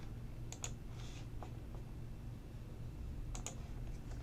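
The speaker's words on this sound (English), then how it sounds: "And now we're going to type" A computer keyboard typed on during CAD drafting work gives a few sparse, soft key clicks in small bursts over a steady low room hum.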